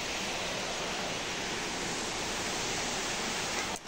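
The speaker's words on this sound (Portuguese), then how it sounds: "Tem uma cachoeira aqui." A waterfall behind a house roars in a steady, dense rush of falling water, continuous and fairly close, with no talk over it.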